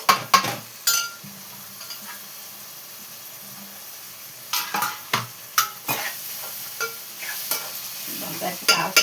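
Two tomatoes fry in a pan with eggplant while being stirred, heard as a low background sizzle broken by repeated sharp scraping and clattering strokes of the spoon, irregular at first and then faster and steadier.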